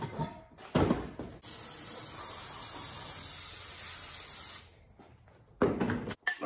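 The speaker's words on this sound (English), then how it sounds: "I'm gonna brake clean all that." Brake cleaner sprays in a long, continuous, loud hiss onto Porsche 944 engine parts around the power steering pump, with short bursts and handling clatter before and after it, close by with no talk.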